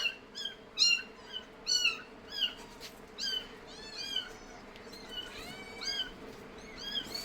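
A cat meows and cries again and again in a run of high, wavering calls, some drawn out and some short, fairly close against a quiet background.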